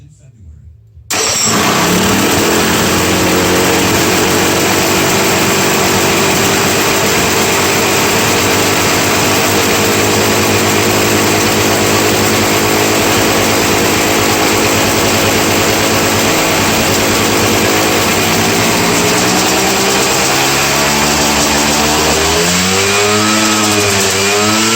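A 258cc Tecate 4 engine on a dyno fires up after a brief quiet start, then roars loud and steady at close range, with rising and falling pitch sweeps near the end as it is run up.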